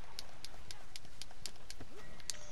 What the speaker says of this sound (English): Hey, look, the tiniest horse came to me.